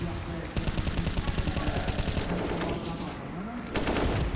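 Rapid automatic rifle fire in a professional Counter-Strike: Global Offensive match at the IEM Rio Major 2022, a steady rhythmic burst of close shots running through most of the few seconds, with a louder exchange near the end.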